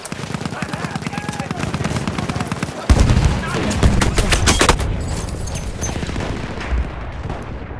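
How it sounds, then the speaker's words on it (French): Rapid machine gun fire from an enemy position in Battlefield 1, a dense rattling burst of shots running throughout amid a busy battlefield din, with heavier impacts midway and voices in the mix. "C'est une mitrailleuse ennemie."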